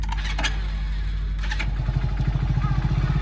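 A Royal Enfield Hunter 350 motorcycle starts on the electric starter and settles into a close, loud, thumping idle with a pulsing beat, over clatter and background noise.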